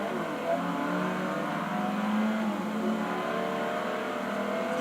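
A car engine in the racing game Forza 4 revs with a deep, throaty tone, a steady close growl that rises and falls slightly across a few seconds.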